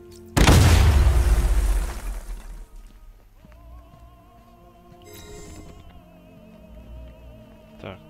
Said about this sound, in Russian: Странно, что никто не слышит эти взрывы